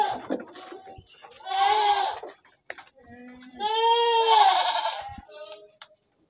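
Goats bleat on a farm where they are kept on dry feed, two long wavering calls close by with short sharp noises between them.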